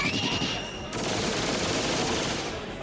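In the Skullgirls fighting game, explosion effects burst in a rapid, dense barrage of booms and crackles, loud and close throughout.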